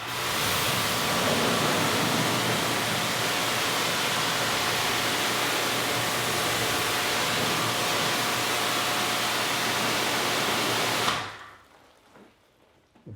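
A pressure washer sprays rinse water through a 40-degree 3.5 nozzle, a loud, steady, close hiss of water that runs unbroken for about eleven seconds and then cuts off abruptly into near silence.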